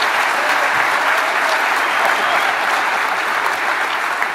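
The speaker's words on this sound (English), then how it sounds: "give them a big round of applause" A conference audience at the DEF CON 21 hacker convention breaks into loud, sustained applause for first-time speakers, a dense steady wash of clapping and some cheering that holds for several seconds.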